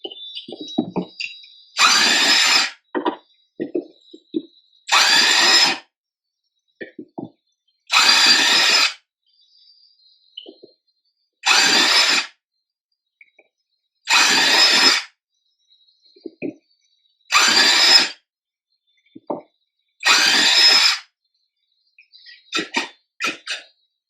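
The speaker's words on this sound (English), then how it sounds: "For any of you guys scared of drilling holes" A power drill bores holes through a kayak hull in repeated bursts of about two seconds, eight in all, separated by short pauses with faint clatter between them.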